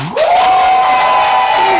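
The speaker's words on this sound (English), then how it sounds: "Can we get a round of applause for that?" An audience cheers loudly at an interview event with the artist, with a sustained high whoop or whistle riding over a dense crowd roar for nearly two seconds.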